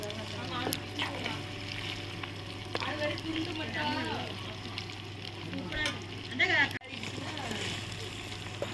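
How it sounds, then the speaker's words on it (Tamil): Chicken 65, Tirunelveli style, deep fries in oil with a soft, continuous sizzle and occasional splattering, while a person talks over it throughout. "பாருங்க சூப்பராக நம்ம சிக்கன் பொரிச்சாச்சு"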